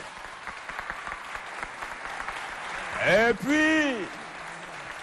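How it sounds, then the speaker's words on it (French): Applause from students at a school quiz contest between two high schools, a moderate patter of clapping under a talking voice, with a voice speaking over it near the end. "Applaudissez pour vous."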